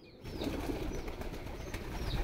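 Pigeons in a village farmyard among chickens coo softly, with a brief flutter of wings, close by and fairly quiet over steady outdoor background noise.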